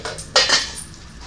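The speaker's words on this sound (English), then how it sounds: "Now lift the lid carefully." A metal lid clanks and scrapes against a pot, one short clattering burst followed by a soft hiss that trails away.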